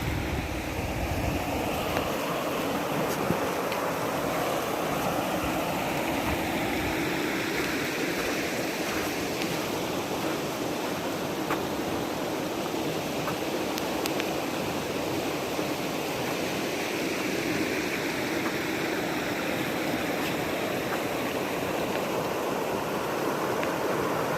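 Water runs steadily along a small river beach, a constant broadband rush and ripple that stays even and fairly close throughout, with no voices.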